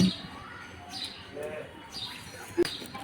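Chickens kept in a wire cage give a few faint, scattered chirps and one short sharp call against quiet background noise, with some indistinct talking.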